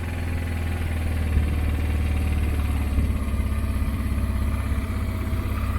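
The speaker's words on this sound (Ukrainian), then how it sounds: "Мотоцикл не заводиться, мотоцикл, як кажуть, включається." A Honda Transalp XL600 motorcycle engine idles steadily, a low, loud rumbling putter with a few slight bumps, close by and with no talking.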